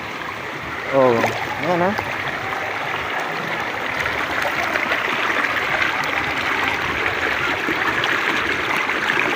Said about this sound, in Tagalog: Kaya maganda dito kasi hindi napupundo yung tubig, oh. Maagos yung tubig.